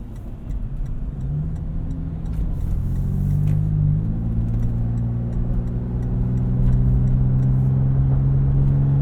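A 2022 Toyota 4Runner TRD Pro with a 4-liter V6 drives along, its engine drone heard from inside the cabin, climbing and shifting in pitch as it accelerates, steady and fairly loud with no talking.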